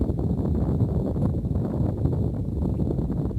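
Steady, dense low rumble of wind buffeting the microphone, constant and loud throughout with no voices.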